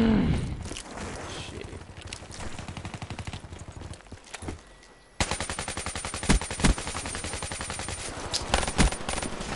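AK-74u automatic gunfire rattles in rapid bursts in a first-person shooter, loud and close, with short pauses and a louder, denser stretch in the second half.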